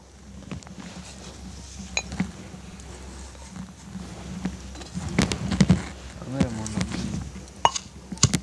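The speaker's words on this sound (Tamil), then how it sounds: "இப்போ நாங்கள் இந்த முடக்கத்தானையும் இடிச்செடுத்துட்டோம்" Mudakkathan leaves are pounded in a mortar, with scattered dull thuds and clinks that grow busier and louder toward the end, heard close alongside intermittent speech.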